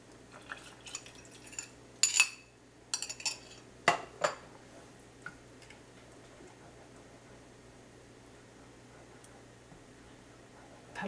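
A spoon clinks and scrapes against a bowl while gelatin is stirred into lukewarm water in a home kitchen, giving a cluster of bright metallic taps early on that fade into quiet, faint stirring.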